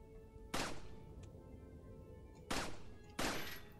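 Three sharp gunshots in Resident Evil 4, fired from a distance, each a loud crack with a short decaying tail, spaced unevenly over a quiet background with no talking.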